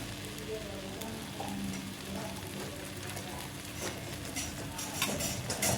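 Jowar pudla batter frying in oil on a pan gives a steady, close sizzle with fine crackling throughout, continuous and fairly loud with no talk.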